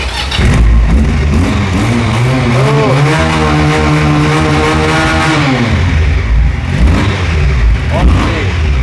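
A 2025 Pilder V4 250cc twin-cylinder motorcycle idles close by, then its revs climb, hold high for a couple of seconds and fall back to a burbling idle.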